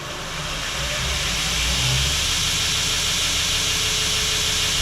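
A grinder smoothing metal corners runs turned down to a low speed, giving a steady, close whirring hiss that holds level throughout with no talk over it.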